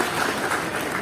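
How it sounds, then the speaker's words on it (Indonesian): A church congregation bursts into steady, dense applause, a continuous loud patter of many hands clapping with no pauses. "Tepuk tangan yang paling meriah buat Tuhan"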